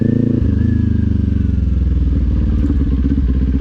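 2024 Kawasaki Z400 motorcycle on an afternoon ride, its engine pulsing steadily and close with a rising rev early on, plus light clatter and wind.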